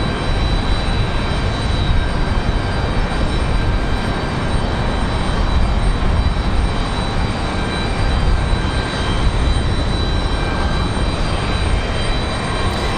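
A United Express jet at Raleigh-Durham International Airport gives off a loud, steady engine roar with a faint high whine, continuous throughout, with wind noise on a gusty day.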